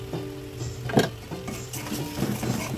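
Layer chicken curry with garam masala powder stirred in a pan on the stove, a spoon scraping and clinking against the metal over a soft sizzle, with one louder clatter near the start, continuing without talk.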